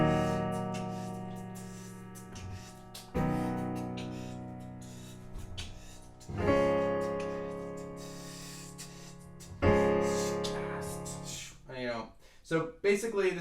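Solo piano plays the bridge of a song in slow sustained chords, each struck firmly and left to ring and fade. Quicker, lighter notes come near the end.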